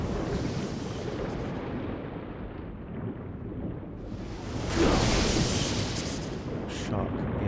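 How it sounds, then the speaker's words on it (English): Gunfire in the video game Sekiro: Shadows Die Twice, rumbling booms and a louder blast midway over steady background noise, with voices present. "Who's shooting?"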